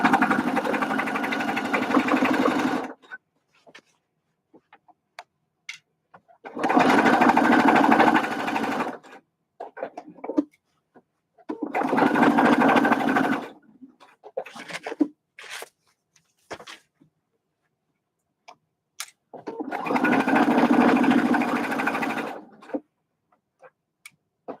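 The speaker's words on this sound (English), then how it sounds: "I like to keep my needle in when I readjust just so that I can make sure I'm always sewing straight" A sewing machine stitches a fabric bucket hat in four loud, sustained bursts of rapid running, separated by quiet pauses with small clicks and handling noises as the fabric is readjusted.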